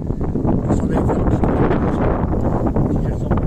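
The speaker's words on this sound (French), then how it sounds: "le vent, ben, il fouette" Strong gusting wind buffets the microphone with a loud, continuous broadband roar that stays steady and close throughout, with no clear voices.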